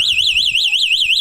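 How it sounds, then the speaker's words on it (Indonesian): The anti-theft alarm on a DF5 U Winfly electric bicycle wails in a loud, rapid up-and-down siren sweep, repeating steadily at close range with faint background noise underneath. "ini alarm bunyinya"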